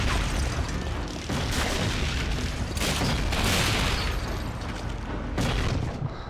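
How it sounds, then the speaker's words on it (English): Loud, dense game explosions from the Call of Duty: Finest Hour British front, with booming blasts and bursts overlapping in a continuous roar and no pauses. "Can we stop exploding,"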